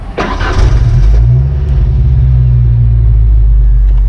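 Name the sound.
mini truck engine running while shifting gears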